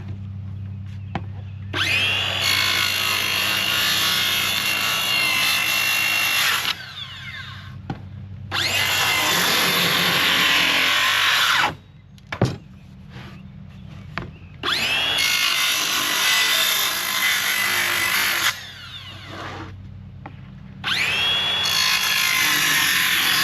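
An oscillating multi-tool cuts notches in wooden boards for a chicken nest box. Its loud, steady buzzing comes in four separate bursts of several seconds each, with short quiet gaps and a few knocks between them.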